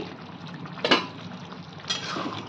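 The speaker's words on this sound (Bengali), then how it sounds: "ঢাকাটা তুলে নিচ্ছি।" Lid lifted off a pot of chicken curry simmering on the stove, with two brief metallic clanks over a soft, steady bubbling hiss.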